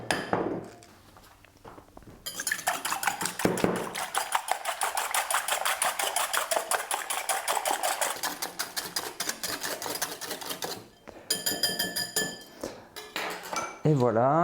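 Eggs whisked in a dish for an omelette, a rapid continuous clatter of utensil against the dish, loud and close, running for several seconds before pausing for brief sounds of handling.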